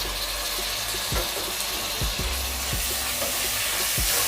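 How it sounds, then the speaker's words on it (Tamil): Two tomatoes cut lengthwise sizzle steadily in a hot pan for mushroom biryani, with a spoon scraping and stirring in several distinct strokes over the continuous frying hiss. "தக்காளி நல்லா குழஞ்சி வர வரைக்கும் நல்லா வதக்கிக்கோங்க."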